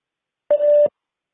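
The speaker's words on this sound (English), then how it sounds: "Please leave a message after the tone." A single steady voicemail beep from a phone line, one clear electronic tone lasting under half a second, loud and isolated, with silence before and after.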